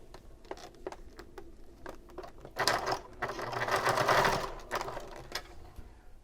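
A sewing machine top stitching fabric bag pieces runs in short clicking bursts, then a longer steady whirring run in the middle before tapering back to brief stitches, close and clear with no talking.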